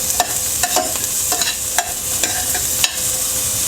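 Onion frying with garlic in a lightly oiled pan sizzles steadily while a utensil stirs and scrapes, producing repeated sharp clinks and scuffs at irregular intervals over the hiss.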